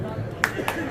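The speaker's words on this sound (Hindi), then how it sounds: "जोर से तालियां बजाएं, जोर से" A crowd at a Congress party political rally in Seelampur claps in a short burst of sharp, close hand claps beneath a man's amplified speech.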